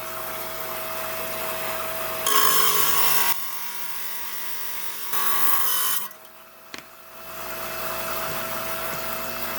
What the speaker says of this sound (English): we're down here on my 5-inch high-tech trim saw that I got to plug in